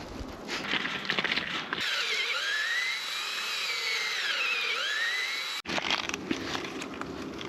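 A power drill drives a lag bolt into a wooden gate post, whining steadily and loudly for about four seconds with rising and falling pitch as the bolt bites, bracketed by brief handling noise before and after.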